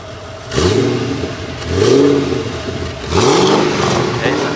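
A Holden CV8 Monaro engine is revved in three loud, close blips, each rising and falling off toward idle between pushes, with people talking over the engine.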